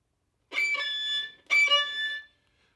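Natural and artificial violin harmonics from Ravel's Tzigane are played together: two quiet, glassy, high-pitched sustained notes, each lasting under a second, one after the other, alone with no talking.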